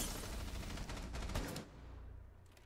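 Gunfire in the video game Rainbow Six Siege, a quick burst of several shots blending into a noisy wash that fades into quieter background, fairly faint overall.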